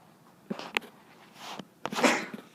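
One person sneezes sharply, followed by a second burst of breathy noise, close and fairly loud in a quiet room.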